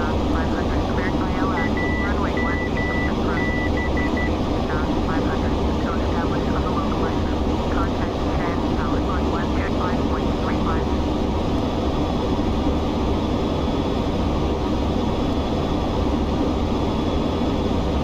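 A simulated aircraft engine in the FSX flight simulator, on a flight from Pisa to Birmingham, gives a steady, loud, broadband drone that holds for the whole stretch, with faint voices talking underneath.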